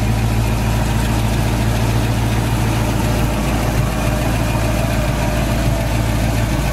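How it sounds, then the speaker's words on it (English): The original 289 V8 in a 1967 Ford Mustang Coupe, fitted with new plugs, a new cap and stock manifolds, idles steadily and smoothly, a close, continuous low rumble with no talking. "Motor seems to run great with new plugs, new cap, stock manifolds."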